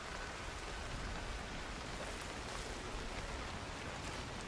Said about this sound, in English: Ew, it's raining.